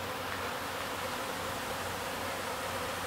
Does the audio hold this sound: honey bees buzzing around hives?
yes